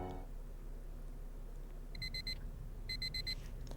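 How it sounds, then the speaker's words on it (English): Electronic alarm clock in a video game beeping in two bursts of rapid repeated tones over a low ambient hum, fairly faint, with no talk. "The loudness of my alarm brings me out of my slumber."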